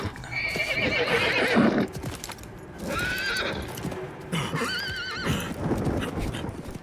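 Horse in the video game Diablo 4 neighing with a shrill whinny, alongside clip-clopping hooves, in two bursts separated by a quieter gap with game ambience.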